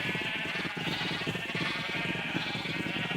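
Sheep in the Minecraft video game bleat in a continuous overlapping chorus, several wavering calls layered close together at moderate volume with no speech over them.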